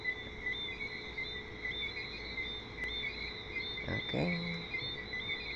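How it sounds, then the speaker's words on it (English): Crickets chirp in a steady, high-pitched trill over quiet outdoor ambience beside calm water on an early morning in Bermuda. A person speaks briefly and a short whistle-like call sounds near the end. "some crickets are singing."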